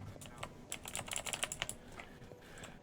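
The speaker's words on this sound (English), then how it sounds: "I do need to get a new keyboard. This one is kind of loud." Loud clacking on a computer keyboard during PC gaming, a fast burst of close, sharp keystrokes in the middle with sparser taps before and after.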